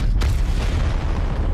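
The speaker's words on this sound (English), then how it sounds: "Use that gravity cannon there." Gravity cannon firing in a video game: a loud, low booming blast near the start that rumbles on heavily through the rest of the moment, with no talk over it.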